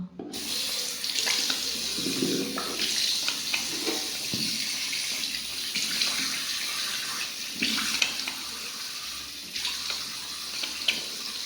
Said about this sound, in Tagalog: Tapos hilamos na tayo.